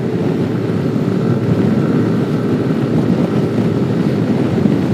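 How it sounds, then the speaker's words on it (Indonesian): Strong wind buffets the microphone while touring by motorcycle on a coastal road in East Java, a continuous loud rushing roar mixed with low engine and road rumble. "Anginnya kencang di sini."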